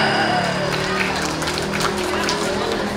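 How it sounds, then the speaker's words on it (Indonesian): An audience claps together at an anniversary celebration and office inauguration for a savings and loan cooperative, a steady dense wash of applause lasting throughout with voices talking over it. "kita beri tepuk tangan"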